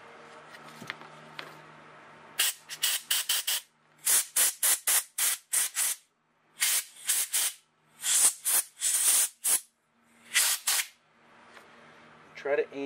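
Compressed air blasts into the small holes of a cleaned Briggs & Stratton small engine carburetor, a dozen or so short sharp bursts in irregular rhythm, close up, with quiet murmuring between.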